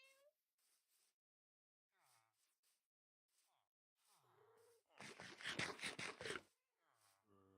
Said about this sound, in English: I'll have to go rescue that black cat at some point